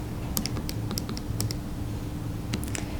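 Light, irregular clicks of keys pressed on a TI-84 Plus calculator come in small bursts over a faint steady hum, close and quiet, with no one speaking.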